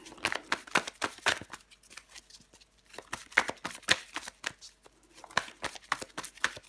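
Tarot cards shuffled and dealt onto a table, a close run of crisp riffling snaps and soft slaps in uneven bursts, with no talking over them.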